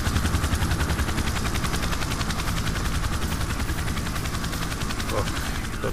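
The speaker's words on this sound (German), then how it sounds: "Der Heli soll verschwinden, der nervt." Helicopter in the video game S.T.A.L.K.E.R. Shadow of Chernobyl, a loud rapid rotor chop pulsing steadily throughout, with bursts of gunfire and a voice mixed in.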